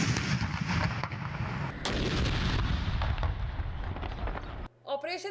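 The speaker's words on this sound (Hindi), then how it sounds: "दिन का आगाज 21 तोपों की सलामी से हुआ।" A 21-gun cannon salute fired in Lahore at Mazar-e-Iqbal on a national day of thanksgiving: loud, dense, rolling booms follow one another without pause, then break off abruptly and a voice speaks briefly at the end.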